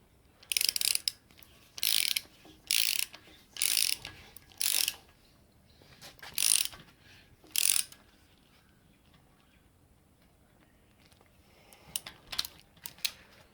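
Bursts of rapid ratchet clicking from a Snap-on ratchet with an 8mm hex socket during a Ford 302 Cleveland engine bottom-end reassembly, several short close strokes in a row, then pauses and a few lighter clicks near the end.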